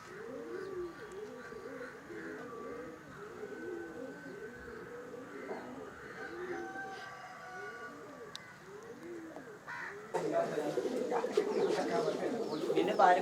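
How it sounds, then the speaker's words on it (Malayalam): Pigeons coo in a pigeon loft with repeated soft, rhythmic throaty calls at close range, joined by faint chirps. A louder burst of fluttering and rustling comes near the end. "ഇതിൽ പാണ്ടനാണ് പ്രാവ്."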